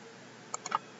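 A computer mouse right-click in CAD software comes through as three quick, light clicks in close succession after a moment of quiet, up close.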